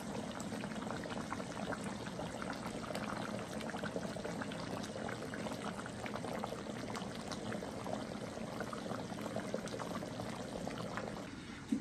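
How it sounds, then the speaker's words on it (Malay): Chicken masak merah, Indian Hyderabad-style red sauce, cooking over high heat in a pot, giving a steady bubbling, sizzling wash that runs unbroken and fairly quiet with no voices. "Kita bagi dia mendidih."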